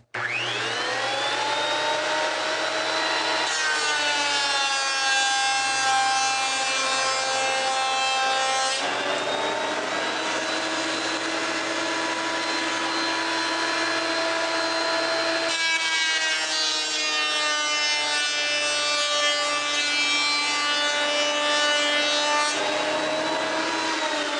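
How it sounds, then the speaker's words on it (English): A surface planer feeds a board of wood through its cutterhead, giving a loud, continuous high whine whose pitch shifts as each pass starts and ends, nearby and with no talking. "Those surface planers are nice."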